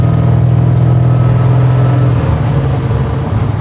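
A supercharged Chevy Nova SS restomod accelerates hard, its engine a loud, steady roar that holds close and continuous, with a slight shift in pitch near the end.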